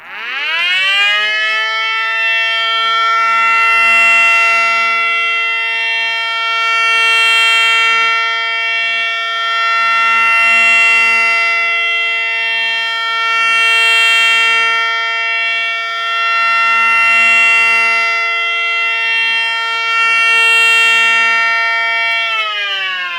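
A mini 1:8-scale FS 500-DHTT siren winds up into a loud, steady alert tone that holds with a slow pulsing rotation for about twenty seconds, then winds down at the end.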